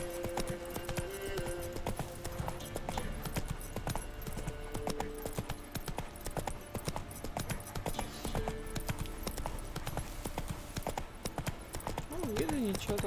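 In The Witcher 3, a horse fitted with a winged skin trots with a continuous rhythmic clip-clop of hooves, and a person talks over the steady hoofbeats.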